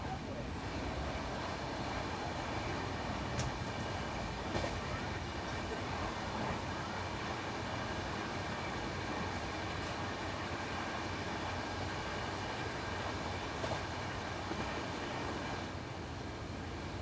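Diesel-hauled express train on the Konkan railway, a steady loud rumble of running rolling stock and engine drone continuing unbroken throughout, with faint voices now and then.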